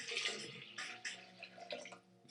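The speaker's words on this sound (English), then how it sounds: "This cup sucks for pouring water." Water poured from a cup into a blender jar for a banana smoothie, splashing in uneven gushes and trickles at close range for a couple of seconds.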